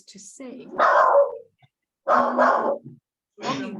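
A dog barks on someone's unmuted call, a few close bursts of barking that overlap and alternate with a person speaking.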